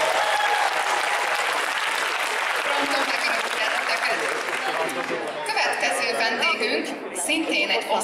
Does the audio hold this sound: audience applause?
yes